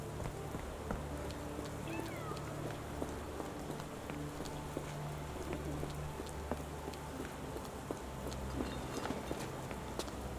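Cat meowing in the Sherlock Holmes The Awakened video game, a few faint meows within steady rain and ambient game sound on a London street.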